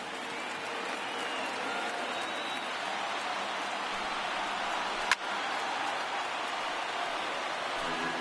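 A baseball stadium crowd of tens of thousands at a Dodgers vs Angels game roars and applauds in a dense, steady wash of cheering that holds throughout, with one sharp crack partway through.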